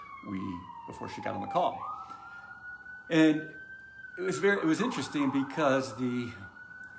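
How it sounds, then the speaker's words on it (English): Emergency vehicle sirens wail outside, a steady rising and falling tone carrying under someone talking indoors. "apologize for the sirens."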